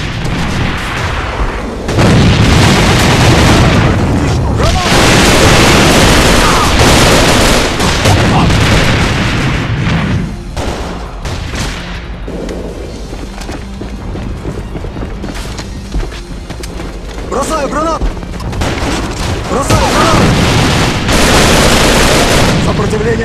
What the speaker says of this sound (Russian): Бросаю гранату!